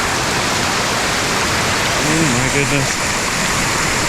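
Broadband rushing roar of a river and waterfall, loud and constant, on a waterfall hike in Juayua, with a person briefly exclaiming over the steady water noise.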